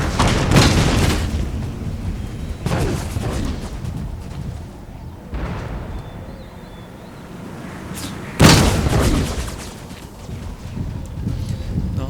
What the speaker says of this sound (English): That looks like that might have been the shrapnel shot.